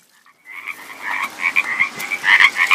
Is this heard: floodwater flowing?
no